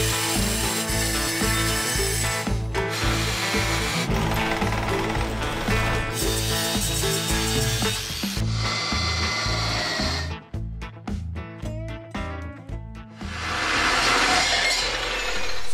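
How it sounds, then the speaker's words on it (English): A chop saw cuts metal pieces in a fabrication shop, a loud sustained grinding whine with several cuts, brief pauses and clatter between them, close up and without speech. "Do you want to cut these on that chop saw?"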